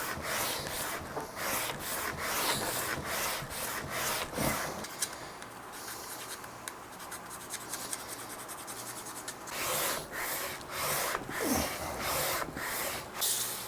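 80 grit sandpaper rubs across a guitar's wooden body in fast, close strokes. The back-and-forth rasping is loud and broad, eases into slower, softer passes midway, then picks up rapid strokes again.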